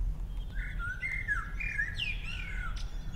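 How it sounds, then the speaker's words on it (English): Bird chirping in the Underswap video game, a series of bright warbling tweets and trills at moderate volume over a low background hum, with no talk. "you got a good bird chirping"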